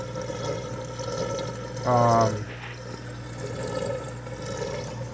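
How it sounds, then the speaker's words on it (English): Water drains down the pipe of a homemade aquarium bucket filter, a steady trickle over a low hum, with a brief louder gush partway through and some speech. "And you got your water draining down that pipe."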